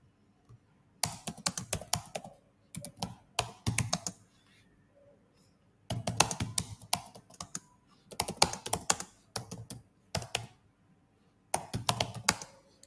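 Bursts of typing on a computer keyboard, quick clicking keystrokes in several runs separated by short pauses, close and fairly quiet with no talking.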